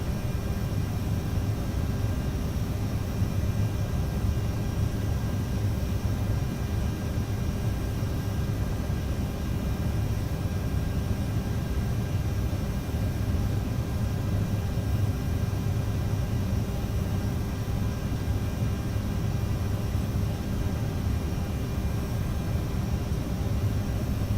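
A steady, even roar from an Aerosoft CRJ900 jet climbing out in Microsoft Flight Simulator, engine and wind noise held at a constant level throughout with no voices.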